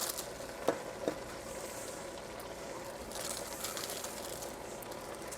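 A pot packed with a whole head of cabbage fries and sizzles steadily on the stove, a constant crackling hiss with a couple of brief clinks near the start.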